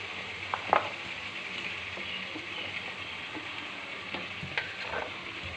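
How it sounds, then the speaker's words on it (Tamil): Vegetables such as drumsticks and potatoes sizzle steadily while being stirred in a pan for kara kuzhambu, a Tamil tamarind curry, with occasional scraping knocks of the spoon against the pan. "முருங்கைக்காய் எல்லாமே போட்டு நல்லா கிளறி விட்டுக்கோங்க."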